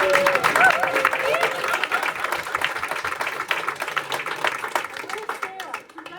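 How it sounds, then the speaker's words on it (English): Dinner guests clap for Andrew at a Christmas dinner in the Phoenix Café at the Findhorn ecovillage. The applause is steady and continuous, mixed with voices and chatter throughout. "Give him a big round of applause."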